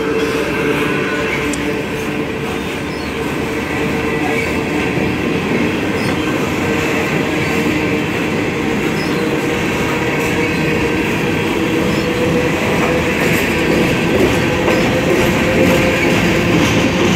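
A train rolls steadily along railroad tracks on a hot day, its continuous rumble and rattle of wheels and cars filling the whole stretch, close and loud with no talk.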